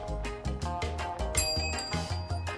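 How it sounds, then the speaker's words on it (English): A dog strikes a bell, giving a bright ding about midway through over steady rhythmic background music. "Hit the bell."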